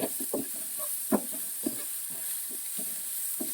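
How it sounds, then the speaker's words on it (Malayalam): Coriander powder being sautéed in a pan for prawn biryani: a steady oily sizzle with repeated spatula scrapes and taps against the pan, close and fairly loud, with no talking. "ഇത് നന്നായിട്ടൊന്ന് വഴറ്റി കൊടുക്കുക മല്ലിപ്പൊടി നന്നായിട്ടൊന്ന് മൂക്കണം"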